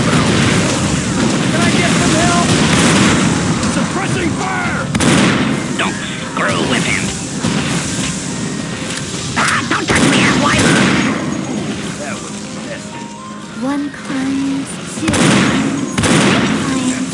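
Gunfire in Unreal Tournament 2004, rapid loud weapon bursts and booming blasts repeating through a chaotic firefight, with game character voices shouting over the shots.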